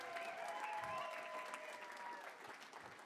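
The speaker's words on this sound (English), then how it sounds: "Would you give yourselves all a round of applause for playing Heads or Tails?" Faint applause from a crowd at a benefit evening for L'Arche Noah Seattle, steady clapping at a distance under a thin layer of voices.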